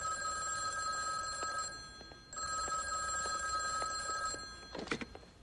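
An old-style telephone bell rings indoors in two bursts of rapid, metallic trilling separated by a short pause, fairly quiet, followed by a few soft knocks.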